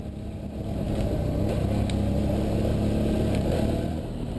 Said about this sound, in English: You can hear by the engine noise, this is my bike.